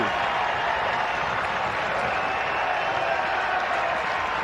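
Baseball crowd at an East Carolina vs. Wake Forest NCAA regional game in Greenville roaring and applauding after a three-run home run, a steady, dense wall of cheering and clapping that holds loud throughout.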